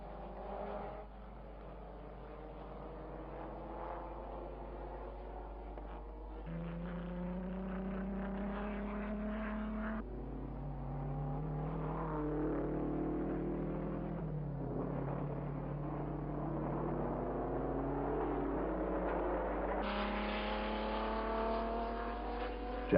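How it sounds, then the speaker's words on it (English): Formula One race cars at the 1959 Dutch Grand Prix whine past in turn. Their engine notes rise and fall over a faint, hum-laden old recording, with several distinct passes. "Jack Brabham, lapped Behrer's ill-handling Ferrari"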